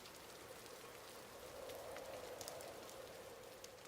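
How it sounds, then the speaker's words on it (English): Rain patters steadily against a window pane on a stormy night, a soft, continuous shower of faint drops with no voices. "Heavy winds howled through the streets that night, and raindrops pattered against the window pane."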